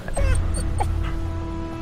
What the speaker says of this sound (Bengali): কোকিয়ে ওঠে কুকুরটা।